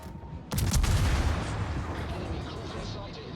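Ragnar guns on the Svea, a Swedish tier 10 radar cruiser in World of Warships, fire a loud booming salvo that rolls into a long rumbling decay, with a softer blast just before.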